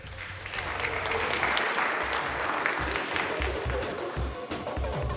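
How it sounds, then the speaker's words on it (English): A crowd at a graphics showcase event applauds a seagull beach photograph, with sustained, even clapping from many people that swells and holds at moderate level for several seconds. "Give him a round of applause,"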